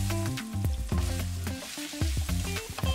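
Fish fries in a pan with a steady, close sizzle and crackle of hot oil, broken by light stirring or scraping sounds; no one speaks.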